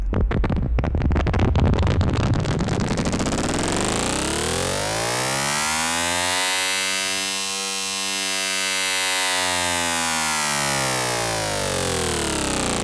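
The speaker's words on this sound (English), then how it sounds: "One thing I love about the Benjolin is that to me it sounds almost like an acoustic instrument" A Benjolin modular synthesizer drone that starts as a rapid buzzing, chattering tone and then settles into a smooth, sweeping, resonant sustained tone, loud and continuous.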